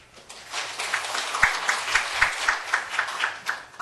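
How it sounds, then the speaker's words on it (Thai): Indoor applause at a company earnings press conference greets a senior executive. It swells in after a quiet start into moderate, rhythmic, fairly even clapping from a modest crowd. "ดิฉันขอเสียงปรบมือต้อนรับนะคะกับคุณชัยรัตน์โกวิจิตจินดาชัยค่ะ"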